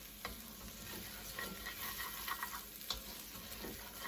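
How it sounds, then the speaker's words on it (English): Brussels sprout risotto being stirred in a pan, a steady soft scraping and gentle sizzle with occasional faint clicks of the spoon, fairly quiet and continuous throughout. "Just keep stirring."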